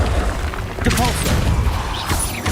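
A Depulso spell cast in Hogwarts Legacy during a fight with spiders, heard as a burst of whooshing magic and thumping impacts amid busy combat effects, with a voice shouting over it.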